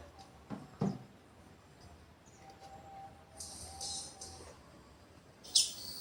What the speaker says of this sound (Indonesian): ini tak setel untuk masteran burung